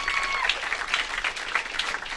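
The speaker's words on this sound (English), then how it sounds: "huge round of applause for James Harper" An audience applauds a guest at a StarCraft II Heart of the Swarm event, a dense round of clapping that carries steadily through the moment without voices.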